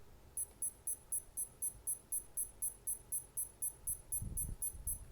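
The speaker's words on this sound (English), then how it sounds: "because it's going to get in 240 beeps in a minute, it's a much quicker pace" An Armitron 40/8252BLK watch in pacer mode beeps at 240 per minute, giving quick, evenly spaced high chirps close to the mic over a quiet background, with a small thump near the end.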